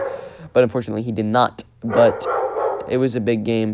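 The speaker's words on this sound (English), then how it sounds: "Sorry if you hear my dogs barking in the background." Dogs bark intermittently in the background of a home while someone talks steadily over them, the barks partly masked by his voice.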